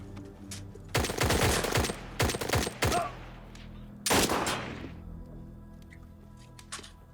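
Bursts of gunfire in an Indonesian action film battle against a sniper: several loud volleys of rapid shots, a pause, then another heavy burst followed by scattered fainter shots.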